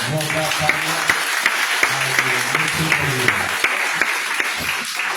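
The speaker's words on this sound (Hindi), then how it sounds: "शायद आप मेरे देश के लिए ताली बजाए" A church congregation claps in scattered, uneven applause during a service, while a voice keeps speaking loudly over the clapping throughout.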